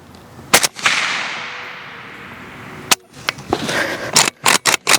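AK rifle fire on a range: sharp, loud cracks, first a pair, then a single shot, then a quick irregular string of several shots near the end, with no talking.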